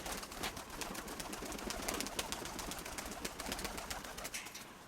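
Pigeons at a home loft during an evening flight session, a steady wash of soft cooing and bird calls mixed with wing flutters and dense background noise, continuous for several seconds.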